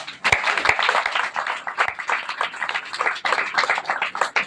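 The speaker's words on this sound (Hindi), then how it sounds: "ताली तो बनता है" Audience clapping at a church gathering, a lively burst of many hands that pulses unevenly and stays fairly loud for the whole stretch.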